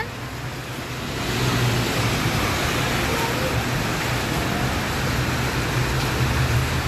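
Outdoor rain falls as a dense, even hiss that grows slightly heavier after the first second and then holds steady.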